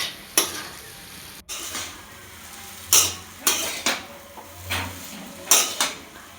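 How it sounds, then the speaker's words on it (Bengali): Boiled chow mein with chopped carrots is tossed and fried in a pan, with a run of spaced scraping clanks from the spatula over a soft sizzle. The sounds are close and come at an uneven rhythm, with no voices. "কিছুটা ভালো করে নেড়ে চেড়ে আগে থেকে সেদ্ধ করা চাউমিনটা দিয়ে দিল"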